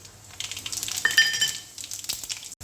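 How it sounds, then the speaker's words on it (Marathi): Oil heated in a pan for tempering cumin and mustard seeds crackles and sizzles quietly with scattered sharp pops and a few light metallic clinks of a utensil, close up and without speech. "तर जिरे मोहरीचं टाकण्यात तेल गरम झालेलं आहे."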